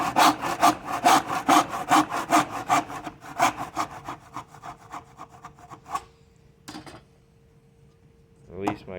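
A saw cuts wooden pieces for a phone holder with fast, rhythmic back-and-forth strokes that slow and stop. Two isolated knocks and a short rising sound follow near the end.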